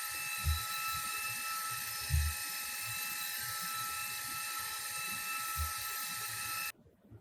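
Steady high-pitched whine of a power sander running continuously on a wooden dining table, with low thumps underneath, cutting off abruptly at the end.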